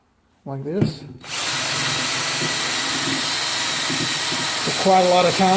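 A drill-driven wire wheel grinds steadily across the head gasket surface of a turbo LQ4 V8 engine, a loud continuous whir starting after a brief spin-up, with someone speaking over it.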